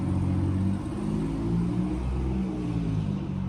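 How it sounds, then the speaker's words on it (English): A car rumbles past close by with a steady, loud engine drone and low revving hum that holds throughout, without any talk. "there's literally no reason for cars to be loud"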